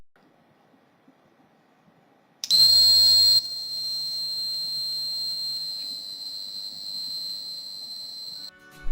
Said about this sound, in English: the second light is switched on and the buzzer starts ringing